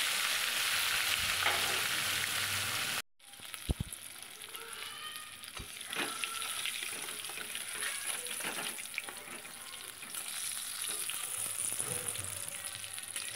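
Large koi fish frying in hot oil make a dense, continuous sizzle and crackle close by, broken by a short silent cut and a few sharp spatters and pops, with no voices.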